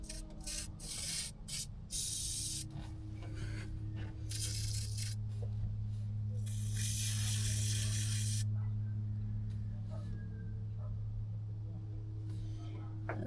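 A farm truck part being pressure-washed clean, with bursts of hissing spray starting and stopping over a steady low engine drone from the washer, loud and close throughout.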